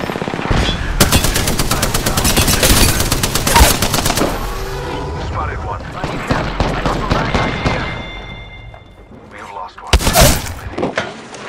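Rapid automatic gunfire in an Apex Legends-style shooter match, dense bursts of machine-gun fire with sharp shots and breaking clatter, loudest early on, easing, then a fresh loud burst near the end, with game voice lines mixed in.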